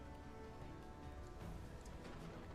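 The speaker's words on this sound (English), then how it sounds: "It's raining like crazy." Steady heavy rain in the mouse-colony building game Whiskerwood, a constant dense hiss of falling drops with no pauses, fairly quiet and with no voices.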